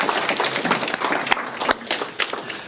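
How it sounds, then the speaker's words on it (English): Audience at a 2019 public lecture on school leadership applauds a panel, steady dense clapping filling the whole stretch with a few sharper claps near the end. "give a round of applause for all of the insights and thoughts from the panel"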